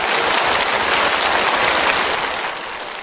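A studio audience at a treasure-appraisal show in Kaifeng applauds in a dense, steady roar for a few seconds. The clapping eases slightly toward the end.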